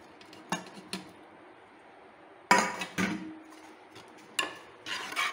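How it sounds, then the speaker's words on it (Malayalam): Grated coconut and salt stirred into broken-wheat porridge in a pot, a few sharp clinks and scrapes of a spoon against the vessel, spaced irregularly with quiet gaps between. "തേങ്ങ ഉപ്പിട്ട് ഇളക്കി"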